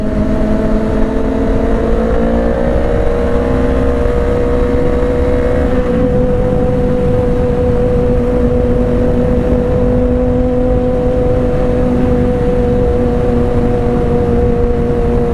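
A Honda CBR500R motorcycle engine drones loudly while riding, holding a steady high rev. Its pitch rises and then settles after a gear change partway through, with continuous wind rush underneath.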